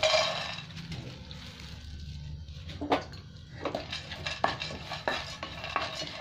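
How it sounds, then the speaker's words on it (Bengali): Chopped cashew nuts fry in ghee for Holi gujiya: a soft sizzle at the start fades under scattered spoon clinks and scrapes against the pan, with no talking. "এবার আমি কাজু বাদামটা দিয়ে দেবো, একটু ভেজে নেবো।"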